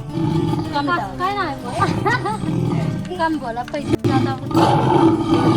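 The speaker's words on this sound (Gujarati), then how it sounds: "કંઈક આવા સિંહના અવાજ આવે છે" A coin-operated animal statue at Khodaldham temple in Kagvad plays a recorded lion roar, a series of rising-and-falling roaring growls, fairly loud, with people talking over it.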